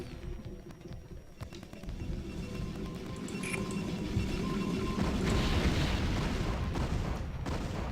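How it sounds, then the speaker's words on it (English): Loud explosions and booming gunfire in the multiplayer plane game Altitude, with rumbling blasts building and thickening toward the end into a sustained barrage. "I cannot concentrate with explosions that loud in my ear"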